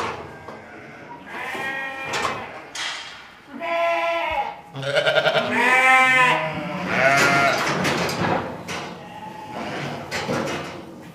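Sheep and lambs bleat over and over at close range while being sorted on a farm, overlapping calls rising and falling, with occasional clatter from a gate or pen.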